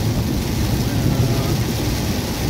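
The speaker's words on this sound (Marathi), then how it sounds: "जोराचा खूप पाऊस चालू झालेला आहे" Dense, constant hiss and rumble of heavy rain pouring steadily, loud and close, with no pauses, heard from a vehicle on a road.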